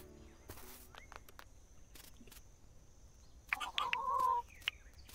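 Chickens cluck briefly in the video game Dinkum, a faint sparse clucking and squawk late in the clip amid soft game clicks and tones.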